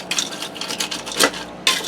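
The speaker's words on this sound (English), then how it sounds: "I'm just going to give this a stir quick." A spoon stirs noodles in chicken broth in a Ninja Foodi pot for ranch tuna casserole, making a close, repeated scraping and clinking of metal against the pot in uneven strokes.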